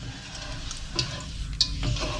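Steady sizzling and crackling of marinated pork frying in medium-hot oil, with a few sharper pops and stirring clinks over a continuous hiss.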